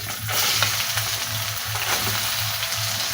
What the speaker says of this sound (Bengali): ওই তেলে ফোড়ন দিয়ে দেবো শুকনো লঙ্কা আর তেজপাতা আর কেটে রাখা পেঁয়াজ।